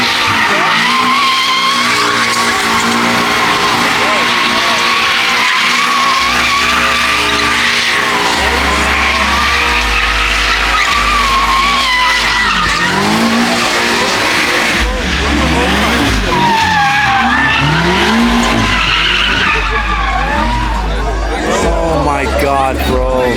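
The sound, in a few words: BMW M5 CS tires skidding during burnouts and donuts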